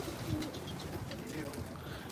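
Pigeons coo on a rooftop, soft low throaty rolling calls repeating in short bursts, close and fairly faint, with a murmur of voices underneath.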